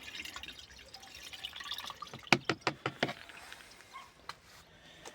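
Diluted solution poured through the wide mouth of a new garden sprayer, faint liquid trickling followed by a quick run of distinct drips and splashes, close and quiet, with no talking.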